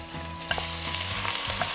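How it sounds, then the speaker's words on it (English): Minced pork frying in a pan for pancit Malabon, a steady close sizzle broken by repeated stirring scrapes and light clinks, with a faint hum underneath and no talking. "We're going to cook our minced pork until all the pink color are gone"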